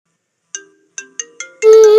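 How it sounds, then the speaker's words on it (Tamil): A phone rings with an incoming call: four short chiming notes build into a loud sustained melodic ringtone, close and clear with no talk over it. "ஃபோன் வந்து ஃபோன் வந்து இது எடு"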